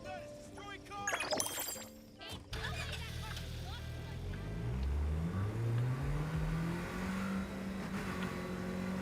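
A car in the video game Neverness to Everness is taken and driven off after a short crash and shatter, its engine revving and rising in pitch as it accelerates steadily.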